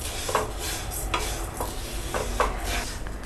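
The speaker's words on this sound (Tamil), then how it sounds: "லைட்டாக ப்ரௌன் ஆகிற வரைக்கும் நம்ம நல்லா ரோஸ்ட் பண்ணிக்கலாம்." Moong dal roasts dry in a pan over low flame for payasam, with a soft hiss beneath several light scraping stirs and clinks of the spoon against the metal, no voices present.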